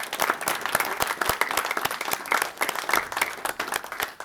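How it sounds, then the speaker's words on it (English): A small audience at a talk claps steadily, with individual hand claps clearly audible in a close, continuous round of applause lasting a few seconds. "let's give them a really good round of applause."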